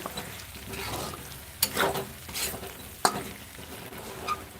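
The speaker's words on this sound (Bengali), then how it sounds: "গরম মশলার গুঁড়োটা দিয়ে একটু নেড়ে চেড়ে নেব" Chicken skin and legs frying in a pan as garam masala powder is stirred in, a soft continuous sizzle with a few sharp scrapes and clinks of the spoon against the pan, close and fairly quiet.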